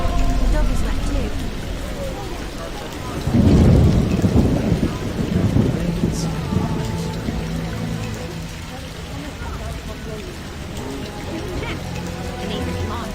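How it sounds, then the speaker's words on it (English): Heavy rain and a thunderstorm in The Witcher PC game: a constant rushing downpour with a deep rolling rumble of thunder swelling partway through, while voices talk over the storm. "Cats and dogs. What a downpour!"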